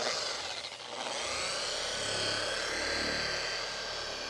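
A variable-speed polisher working abrasive across the paint of a Mercedes-Benz 300SL Roadster, giving a steady whirring drone that dips briefly near the start, then holds an even, close hum.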